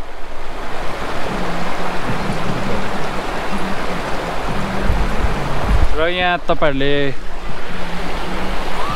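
A shallow river in Kalimpong, the Relli, fills the air with a loud, continuous rush of flowing water, and someone speaks briefly over it near the end.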